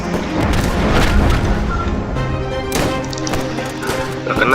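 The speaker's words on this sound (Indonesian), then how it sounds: "bom di depan mata" Bomb blast in a Roblox World War 1 battle game, a loud sustained booming rumble with dense crackling debris, a second heavy impact near the middle, continuous battlefield noise throughout.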